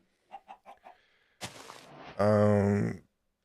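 A few short clucks, then a noisy burst and a loud, drawn-out squawking call from chickens in the video game Minecraft modpack Stoneblock 2, with no talk.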